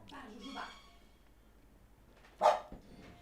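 A pet dog named Jujuba gives one sharp, close bark indoors while someone talks steadily.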